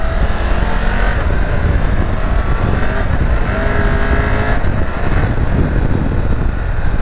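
A 2023 Triumph Tiger 1200 GT or BMW R1250 GS adventure motorcycle revs out on winding roads, a loud, steady engine drone under heavy wind rush, with pitch rising and easing through the throttle, and no voices.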